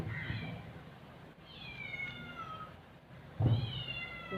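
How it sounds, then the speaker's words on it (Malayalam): A kitten cries with a few drawn-out falling meows, faint and a little distant over a low background hiss, separated by short pauses. "പൂച്ചക്കുട്ടി കരയുന്നുണ്ട്."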